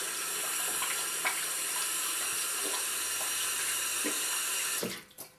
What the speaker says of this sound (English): then let's rinse that